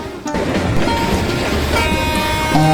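A cartoon train rolls along with a continuous rumbling rattle, with brief whistle-like horn tones near the end.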